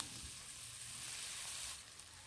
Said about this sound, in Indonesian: Tumis 2 bawang. Masak hingga 2 bawang ini benar-benar sedikit harum.